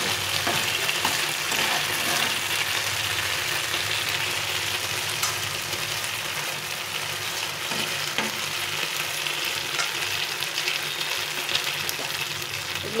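Momo dumplings frying in hot oil give a steady, close, continuous sizzle throughout, with occasional faint clicks of stirring and no talking.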